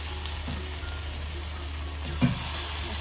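Water lily (shapla) flower pakoras frying in hot oil with an onion-style batter, a steady close sizzle throughout with a couple of brief stirring clatters partway through.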